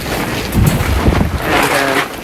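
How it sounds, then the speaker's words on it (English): A strong gust of wind blasts across an outdoor sukkah, a loud broadband roar buffeting the microphone and rising twice across the short span, with no voices. "here comes a pretty good gust"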